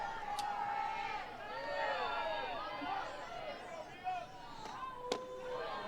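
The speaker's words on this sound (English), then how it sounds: "Crowd trying to make some noise and get involved." Crowd noise fills a college softball stadium during an NCAA championship game between Florida and Florida Atlantic, a steady murmur with scattered whistles and shouts, under a commentator's voice.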